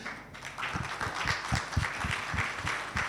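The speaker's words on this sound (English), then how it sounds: "an applause for the panelists, please" Audience applause for panelists at the close of a MOBEXX 2023 panel discussion, steady moderate clapping from a small crowd with distinct individual claps, sustained throughout.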